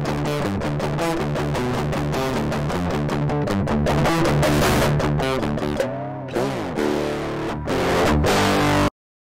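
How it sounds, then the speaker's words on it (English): Electric guitar run through an STM32 DSP effect with heavy crossover distortion, a loud, buzzy, gated-sounding riff of repeated chords and notes that briefly thins out near the end before stopping abruptly. "And finally, heavy crossover distortion."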